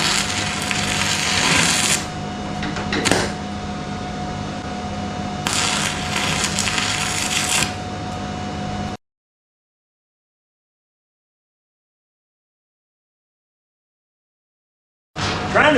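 An ArcCaptain MIG145 Pro MIG welder turned down to about 90 lays bursts of crackling, buzzing arc noise, loud and close, broken by short pauses, then falls silent before briefly starting again.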